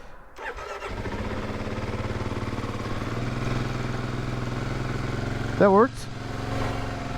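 A motorcycle engine starting and running after a clutch repair, a steady close idle drone throughout with a brief rising rev near the end, while a person talks over it.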